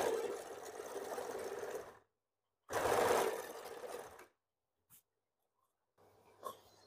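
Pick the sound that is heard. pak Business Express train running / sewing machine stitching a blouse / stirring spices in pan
sewing machine stitching a blouse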